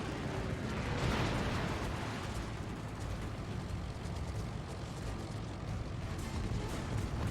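Naval gunfire striking a warship in World of Warships: a dense, continuous rumble of booming impacts and blasts, loud and broadband, filling the whole stretch with no clear pauses.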